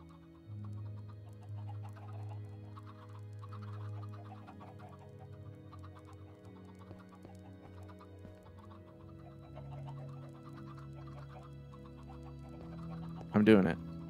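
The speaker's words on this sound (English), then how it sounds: "There's a lot of chickens in here." Chickens cluck softly in a crowded pen in the Minecraft modpack Monifactory, their scattered calls sitting under a steady low machine hum, with a sharp loud burst near the end.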